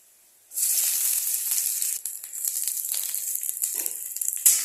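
Chopped onion dropped into hot oil already holding chilli and garlic bursts into a loud, close, steady sizzle, briefly dipping and resuming as it is stirred, with no one talking.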